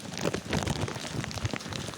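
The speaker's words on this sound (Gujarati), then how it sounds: "જો કાંઈ કેટલો વરસાદ" Heavy rain pouring down in a village, a dense, steady hiss of drops on roofs and ground, loud and continuous with no voices.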